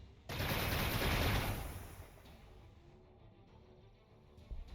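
Gunfire in the strategy video game Warhammer 40,000: Gladius with Drukhari units, a loud dense burst of rapid automatic fire lasting about two seconds that fades into a rumbling tail, with no talking.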